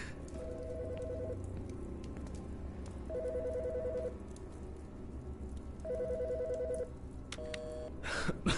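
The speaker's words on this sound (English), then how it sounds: "Phone." A telephone rings in the video game Autopsy Simulator, three bursts of electronic trilling separated by pauses over a soft background hum, then a brief click at the end.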